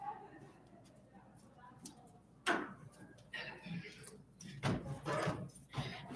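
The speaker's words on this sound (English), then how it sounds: "let me shut this door really quick." A door is shut indoors, giving a sharp thud around the middle of the clip and another knock later, over low room noise.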